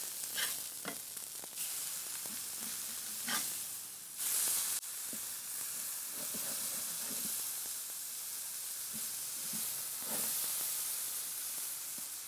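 Burger patties sizzle and crackle on a Weber grill, a steady frying hiss running throughout with brief louder bursts of spatter and scraping as the patties are turned, close and fairly loud.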